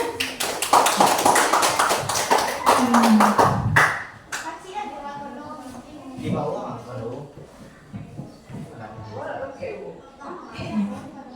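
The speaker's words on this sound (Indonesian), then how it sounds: "Kasih aplaus dulu kelompok 3-nya." Applause for a classroom group at a secondary-school sociology lesson: dense, loud hand clapping from many students for the first few seconds, dying away into scattered chatter and voices that continue under and after it.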